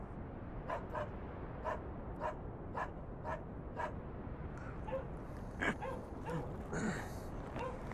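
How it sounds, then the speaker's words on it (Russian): A dog barks in a steady series of regular yaps at some distance, then shifts to higher, irregular whimpers and yips, all fairly faint over a constant background rumble. "Нам надо собаку заткнуть."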